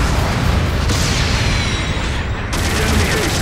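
A mobile suit blowing apart in Gundam Battle Operation 2, a dense roaring blast that rumbles on steadily amid continuous battle noise, with a sharp crackling burst near the end.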